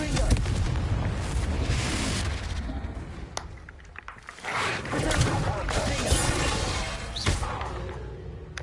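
A Confringo fire spell blasts off in Hogwarts Legacy, a booming explosive burst with sharp cracks over a dense rumble of game sound, with a voice faintly mixed in.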